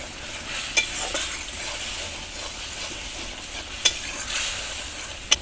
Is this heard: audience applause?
no